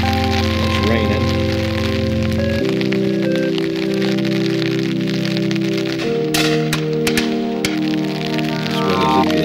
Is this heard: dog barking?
no